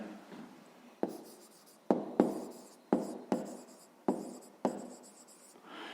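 A pen writes numbers and words by hand on paper, close and dry, with sharp taps of the tip on the page between scratchy strokes in an irregular rhythm, no voices.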